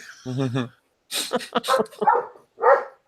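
A dog gives a short series of barks and yips, close and fairly loud, in separate bursts with brief pauses between them.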